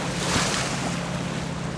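Surf breaking on an open-water beach beside a campfire site, a steady broadband wash of waves with wind rumbling across the microphone, fairly loud and continuous, no talking.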